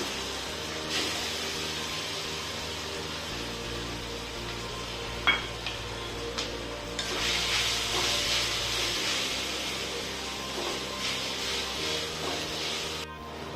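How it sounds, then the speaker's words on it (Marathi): Raw mango pieces sauté in homemade ghee in a pan, giving a steady soft sizzle and hiss with occasional stirring clinks, fairly close and with no talking over it. "मी त्याचा कैरीचा केस घेतलेला आहे आपण तो परतवून घ्यायचा आपल्याला"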